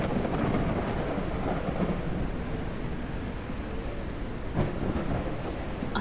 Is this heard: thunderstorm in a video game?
yes